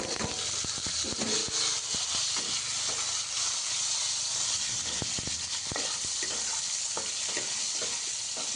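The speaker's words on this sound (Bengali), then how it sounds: "এর মধ্যে আদা আর কাঁচা লঙ্কা দুটোই একসাথে আমি দিয়ে দিচ্ছি, দিয়ে ভালো করে ভাজা ভাজা করে নেব।" Tomato, ginger and green chillies fry in a little oil in a nonstick kadai with a loud, steady sizzle, broken by frequent scraping taps as the mixture is stirred, and no talk.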